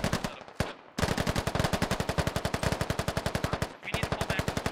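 Automatic gunfire in the video game Operation: Arrowhead, with a couple of separate shots followed by a long, evenly spaced rapid burst of loud machine-gun fire, then a short pause and a final stretch of shots.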